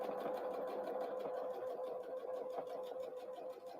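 A sewing machine top stitches around a Christmas tree napkin, a steady rapid needle clatter with an even mechanical hum, close and quiet, running continuously without talk.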